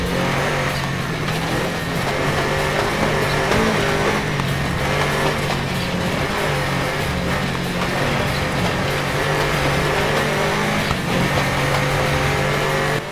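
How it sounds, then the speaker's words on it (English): Toyota Celica rally car in the Gravel racing game, heard from onboard: a loud, steady engine drone that holds close and constant throughout, with faint tyre and gravel noise mixed in and no talking. "Now listen to the sound on board here of the Celica."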